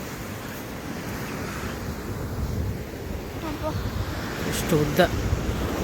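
Morning wind and ocean surf wash over a beach as a steady, close roar of broadband noise that swells slightly, while a person speaks briefly over it.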